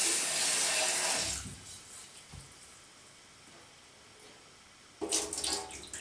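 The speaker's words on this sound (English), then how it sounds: "let's just wash the rice as normal." Rice washed under running tap water, with a loud rushing stream at first, a quieter stretch of faint sloshing, then the tap gushing again near the end.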